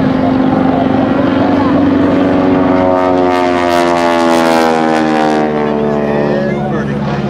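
A jet-propelled wingwalking aircraft at the 2008 Great New England Airshow dives with its smoke system on, giving a loud, sustained droning whine whose pitch slowly slides downward as it passes close by.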